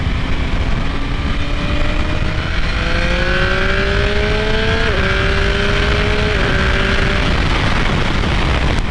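A 2019 Triumph Speed Triple RS naked motorcycle accelerates hard, its engine note climbing steadily through the gears with quick shift dips, loud and close over constant wind and road roar.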